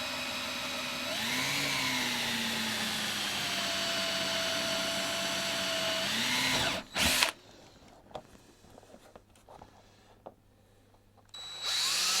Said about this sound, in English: The good thing about wood drill bits as well is you don't really get a lot of blowout.